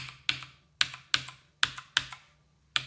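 Typing on a Battletron mechanical keyboard with blue switches, struck close to the microphone: seven sharp, loud clacks at an uneven pace, each with a quick rattling decay, and no voice.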